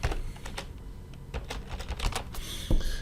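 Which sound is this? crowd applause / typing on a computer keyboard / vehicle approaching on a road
typing on a computer keyboard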